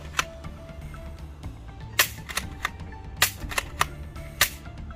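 Bug-A-Salt salt gun firing while hunting bugs, sharp snappy cap-gun-like cracks, about five or six close shots spaced irregularly over a low background hum.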